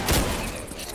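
Gunfire in the co-op zombie shooter Left 4 Dead 2, a short burst of muffled booming shots, fairly loud, with no talk over it.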